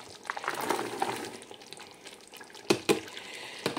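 Carrots frying in a pan for Cameroonian village-style fried rice, a gentle close sizzle with bubbling, a few sharp clinks and scrapes of stirring late on, no talk.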